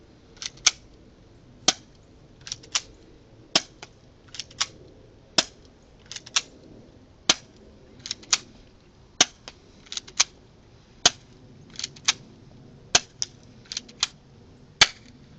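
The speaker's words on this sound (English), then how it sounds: "you do have to pull the slide back every time you shoot" Ignite 1911 airsoft pistol fired over and over, each shot a sharp, light snap, often in quick pairs with short gaps between, close and clear with no talking.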